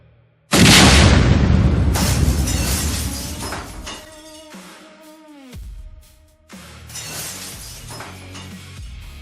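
A glass is dropped and bursts in a loud, sudden shatter, followed by scattering, ringing debris and a strange bending tonal effect as part of an audio drama, then another crashing burst near the end.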